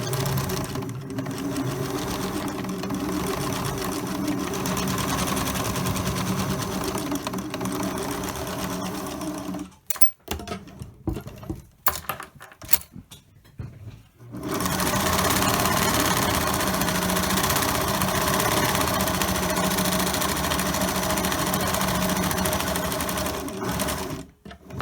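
Sewing machine running a straight stitch along the edge of a fabric medical mask, a steady close whirring drone that stops briefly midway with a few stuttering bursts, then resumes at full speed.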